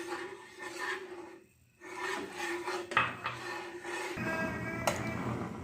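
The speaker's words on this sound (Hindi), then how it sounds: "अब इसमें चम्मच हिलाते रहना है हमने" A spoon scraping and rubbing steadily through milk thickening in a pan for bread kheer with leftover sugar syrup, a close rasping stir that pauses briefly and then continues.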